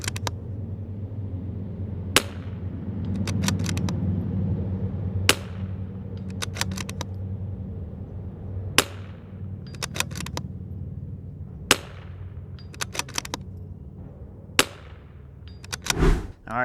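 Rifle gunshots fired at a 180-yard target, sharp isolated cracks spaced several seconds apart, a few in quick clusters, over a low steady outdoor rumble.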